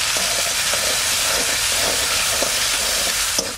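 Potatoes fry in mustard oil with turmeric and salt, giving a loud, dense, unbroken sizzle close by with a few soft knocks of stirring.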